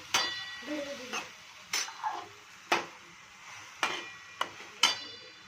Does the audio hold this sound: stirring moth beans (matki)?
yes